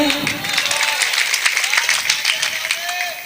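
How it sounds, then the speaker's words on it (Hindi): An audience at a mushaira and kavi sammelan applauding, dense continuous clapping from a crowd, fairly loud and sustained, with a voice talking over it. "तब आप ताली बजा देना"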